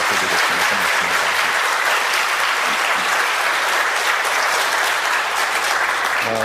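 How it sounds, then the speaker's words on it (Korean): A church congregation applauds warmly for a returning short-term mission team, a steady, dense wash of many hands clapping that holds evenly for several seconds, with no speech over it. "우리 단기 선교 잘 다녀오신 우리 17명 팀에게 다시 한번 큰 박수"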